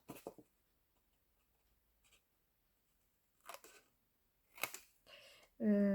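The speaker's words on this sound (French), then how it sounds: "Ici, pareil, je coupe." Scissors cut paper while a Christmas album is being made, giving a few short, crisp snips spaced apart with quiet gaps between them, close and fairly soft, and a voice begins speaking at the very end.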